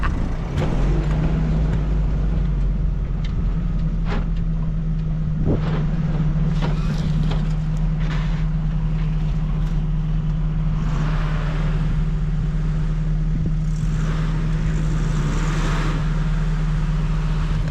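An old Toyota on a test drive, with a constant loud engine drone and a steady low hum heard from inside, plus road rumble and occasional knocks and rattles.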